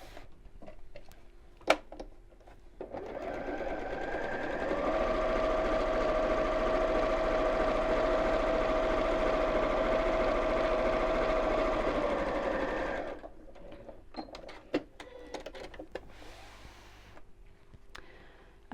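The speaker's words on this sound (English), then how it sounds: "so just sew straight across the top." A sewing machine stitches straight across the top of a fabric drawstring pouch, running steadily with a close, even whirring hum for about eight seconds, framed by quiet handling clicks and rustles before and after.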